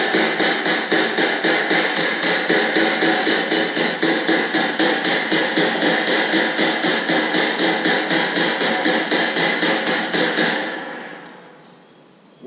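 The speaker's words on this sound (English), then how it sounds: "get my hammer and my piece of metal." A hammer strikes a heated piece of metal in a fast, steady series of sharp, ringing blows that continue for about ten seconds, then stop abruptly.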